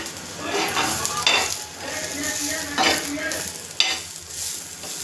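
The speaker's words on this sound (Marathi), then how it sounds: "तर इकडे कांदे पण भाजते." Onions roasting in a pan on a home gas stove, with sizzling and bursts of stirring and scraping against the metal, close and fairly loud.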